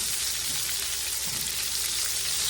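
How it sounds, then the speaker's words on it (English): Onion cooks in a skillet alongside pork chops, producing a steady, close, bright sizzle that holds evenly from start to finish without talk. "So what I'm going to do is go ahead and put my onion in there and let it go ahead and get started cooking."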